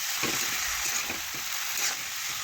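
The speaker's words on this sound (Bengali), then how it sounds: "এখন আমি খুরপি দিয়ে একটু ভালোভাবে মশলার সাথে নাড়াচাড়া করে মিশিয়ে নেবো" Cabbage and spices stirred with a spatula in a hot pan for a vegetarian cabbage curry, giving a steady close sizzle broken by several soft scraping strokes, with no talk.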